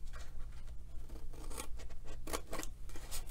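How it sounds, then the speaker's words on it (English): Scissors snip through paper while cutting squares away for a homemade Valentine candy bowl, a steady run of close, crisp cuts with brief pauses between them and no talking. "I'm going to actually cut away every other square"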